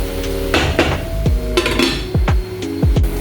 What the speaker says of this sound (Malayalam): ഇനി കുറച്ച് നേരം നമുക്കിത് അടച്ച് വെച്ച് വേവിക്കാം.